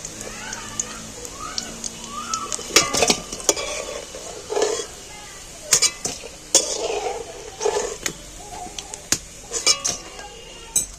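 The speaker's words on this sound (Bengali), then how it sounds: "ডুমো ডুমো করে পেঁয়াজ কেটে রেখেছি কাটা দিয়ে তেলের মধ্যে তুলে নিয়েছি" Diced onions fried in oil, with a clear sizzle running under repeated sharp clinks and scrapes of a utensil against the pan; no talking.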